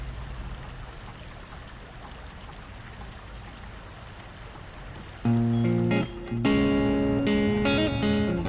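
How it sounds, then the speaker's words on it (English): A cascading waterfall gives a steady soft rush of flowing water for about five seconds, then loud tonal music takes over and masks it for the rest of the clip. "watch and listen to the cascading waterfall"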